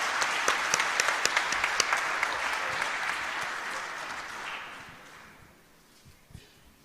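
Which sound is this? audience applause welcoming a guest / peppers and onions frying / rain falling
audience applause welcoming a guest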